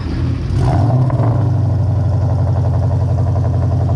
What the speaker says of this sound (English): Can you start the car? We want to hear the exhaust.